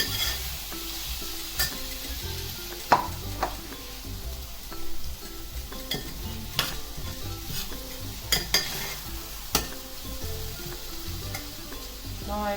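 Ginger and chopped tomatoes fry in a pan with an even sizzle. Frequent clinks and scrapes of a spatula against the pan break in at an irregular rhythm, close and moderately loud, with no speech.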